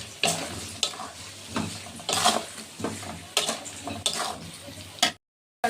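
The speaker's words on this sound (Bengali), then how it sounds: "এবার ভালো করে আমি মশলাটা ভেজে নিই" Spices with turmeric and red chilli powder fry in a pan, crackling under a sizzle as a spoon stirs in irregular scraping strokes, close and alone before a brief cut to silence near the end.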